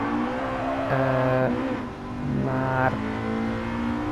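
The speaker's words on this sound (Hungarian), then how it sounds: "nagyon tudja ezt a magas fordulatú szívó benzinhangot" Honda Integra Type R DC2 with a high-revving naturally aspirated B18 VTEC petrol engine, revving up twice in sharp rising wails over a steady idle-like hum, heard from close by.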